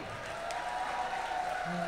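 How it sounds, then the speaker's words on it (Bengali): Audience applause fills the hall at a Lalon concert at a university alumni reunion, a steady dense wash of clapping lasting the full two seconds, with faint tonal music or voice lines underneath. "আর আমরা সবাই নিজেদের জন্য জোরে একটা হাততালি চাই।"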